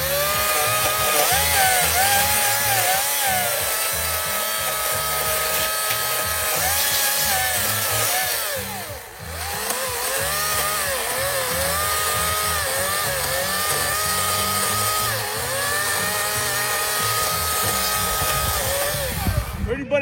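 A chainsaw cuts through wood, its engine whining steadily and rising and falling in pitch under load, with a brief easing off near the middle before it bites in again.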